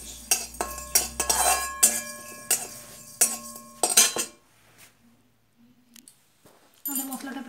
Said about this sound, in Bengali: আমাদের মশলাটা প্রায় ভাজা ভাজা হয়ে গেছে